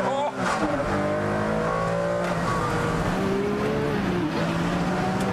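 A Ferrari Enzo's engine blips and then pulls hard out of a corner on track, rising and falling tones as it accelerates, heard from close by with a faint tire squeal.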